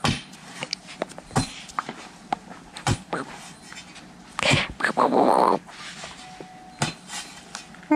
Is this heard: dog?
yes